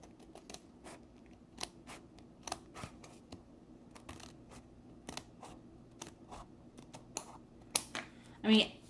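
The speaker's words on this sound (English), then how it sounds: "I'm just going to cut down this line here" Scissors snip through thin cork along a marked line, a series of close, crisp cuts spaced irregularly over a quiet room, ending in a louder final snip.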